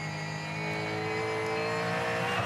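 Supercars race car on a qualifying lap at the Sydney 500, engine pulling hard under throttle; a loud, steady high-pitched roar that climbs slightly in pitch across the short stretch, with no talk over it.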